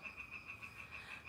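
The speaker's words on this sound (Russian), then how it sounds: "Да, ребят, лягушки поют." Frogs calling outdoors in a steady, continuous chorus, a constant high trilling drone that holds fairly evenly throughout, faint and at a distance, with no voices over it.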